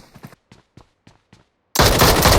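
Gunfire from a bot shooting from behind in PUBG Mobile: several short, evenly spaced shots ring out, then a sudden loud, dense burst of sustained fire fills the end.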